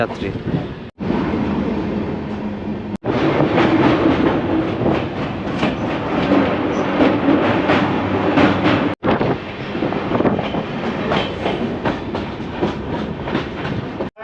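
Kanchankanya Express rolling into Sealdah at a steady pace, a loud continuous rumble with rhythmic clickety-clack of wheels and brief dropouts, close and inside the carriage.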